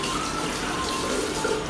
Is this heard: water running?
yes